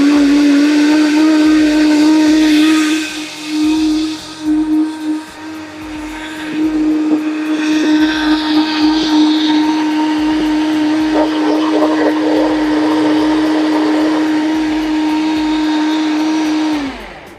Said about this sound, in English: Really important when using a blender, high-powered blender like this, make sure you're starting on 0 and ramp it up